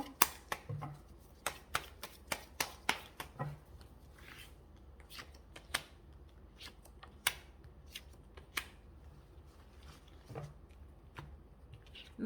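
Tarot cards being shuffled in a quiet room, a long run of sharp, quick riffling snaps and soft slides close up, with no talking.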